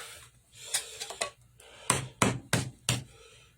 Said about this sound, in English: I gotta tap this back to get this off too.